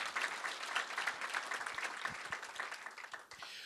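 Audience applause for Dr. Luis Arroyo at a university legacy lecture, a faint, distant patter of many hands clapping that holds steady and then tapers slightly near the end.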